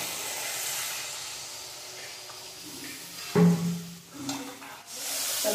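Water poured into a hot pan of mixed winter vegetables for a Bengali chorchori, a brief burst of sizzling and hissing steam over a steady background hiss, fading to soft bubbling.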